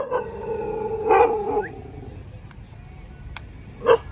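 A frightened dog whimpers and lets out drawn-out, wavering howls, with a sharper yelp near the end, loud and close in an otherwise quiet space, with a few faint clicks between cries.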